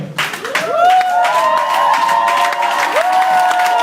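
A church congregation cheers and acclaims the Lord, with a loud, close crowd of rising shouts and sustained voices cheering together, plus some clapping.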